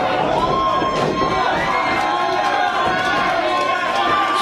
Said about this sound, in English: The crowd is erupting.